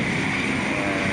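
A helicopter runs close by during landing and takeoff, its engine and rotor producing a loud, steady droning roar with a constant high whine.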